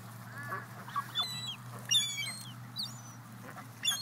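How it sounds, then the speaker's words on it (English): Several ducks call in short honking quacks, scattered and fairly close, over a steady low hum with no talking. "There's is like a lot of ducks around us right now."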